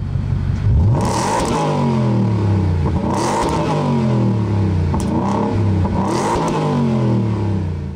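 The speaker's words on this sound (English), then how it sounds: "Take a listen to the exhaust in this truck." A 2023 Ford F-150 Raptor R pickup truck revs its exhaust in three or four sharp, loud bursts. Each one climbs quickly and then falls away into a throaty, rumbling idle, heard up close.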